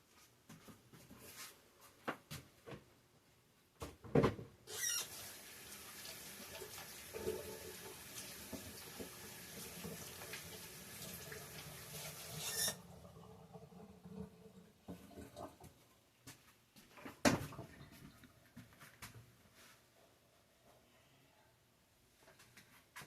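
Water runs from a kitchen tap as vegetables are washed in the sink during homemade sauerkraut preparation, a steady broadband rush that starts abruptly, holds for several seconds, then cuts off, with clatter before and after.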